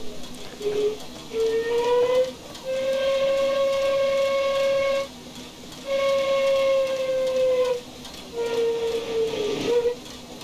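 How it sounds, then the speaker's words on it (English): German steam locomotive whistle in Train Simulator Classic, sounding a melodic tune in repeated long tonal blasts with pitch changes and brief gaps between phrases, loud and clear with no talking. "New German whistle. And it sounds really cool. It does have a tune. It plays a tune."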